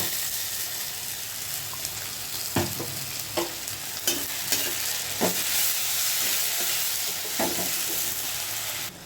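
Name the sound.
ginger, garlic, chilli and tomato paste frying with onion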